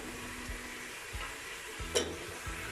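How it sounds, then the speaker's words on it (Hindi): Beef pieces for a pae dish sauté in a pan, giving a faint, steady sizzle broken by a few soft low thumps of stirring, with no talking. "इस तरह से पाई डाल के आपने अच्छे से इनको भून लेना।"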